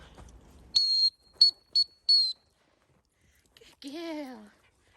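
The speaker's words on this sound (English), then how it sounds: "I could practice whistle recalls." A dog-training recall whistle blown on a walk with a dog named Nala: one long blast followed by three shorter toots, close and clear, then a brief voice afterward.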